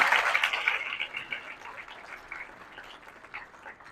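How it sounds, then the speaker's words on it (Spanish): An audience applauds a mangrove specialist at an academic colloquium, a fairly faint burst of clapping that is strongest at the start and thins out over a few seconds. "Un aplauso para el doctor López Portillo."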